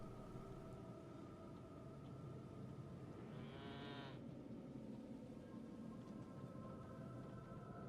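A bleating sheep in the Elden Ring video game, one harmonic cry of about a second rising out of a steady droning ambient game soundscape with no talking.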